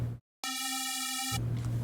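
A single bright synth one-shot lead note sounds for about a second, buzzy and steady, set between bursts of noisy background in a rage-style loop.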